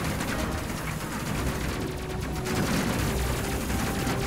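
Ship lasers and main guns fire in a continuous, crackling barrage during combat in the tactical spaceship crew simulation Space Crew, the dense rapid shots filling the scene steadily with no clear pauses.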